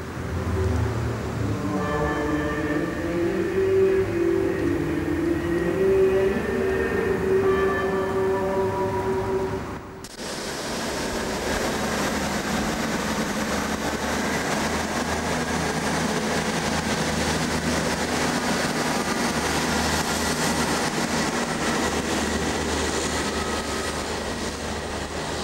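A train travels on the old Pembroke and Tenby Railway up the Vale of Lampeter in South Wales, heard as a steady, loud, broad rumble and rush of wheels and carriage noise that follows an earlier tonal passage.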